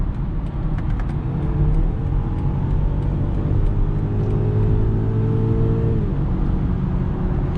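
A 2022 BMW X3 compact luxury SUV with an 8-speed automatic transmission drives steadily, its low engine and road rumble constant throughout, with engine tones rising through a gear and then dropping near the end, and no talking.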